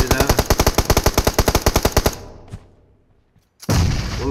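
Automatic rifle fire from PUBG on the Erangel map comes as a rapid, loud, evenly spaced string of about twenty shots. A short lull with a faint single crack follows, then a sudden burst of noise.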